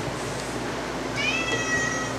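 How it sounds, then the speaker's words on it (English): A roughly two-year-old male cat meows once midway, a clear, close, rising-then-falling call over a quiet background hum. "And he is a really nice cat."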